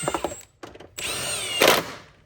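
A power driver with a T30 Torx bit tightens a bolt on a 2019 Chevy Traverse during EVAP system repair. Short clicks come first, then a close, whirring motor buzz that rises in pitch as it spins and bites, then stops.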